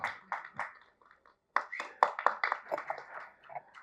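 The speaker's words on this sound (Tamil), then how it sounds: "உங்களுக்கு நீங்களே கைத்தட்டிக்கிங்க." Scattered hand claps at a film music launch event, coming in uneven bursts with a short pause and then a livelier patter. A voice is briefly heard between the claps.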